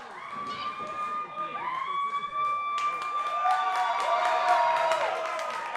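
A crowd at a wrestling event in the Terry Fox Theater in Port Coquitlam cheers and whistles, with a rising, sustained whoop over steady crowd noise and sharp claps toward the end.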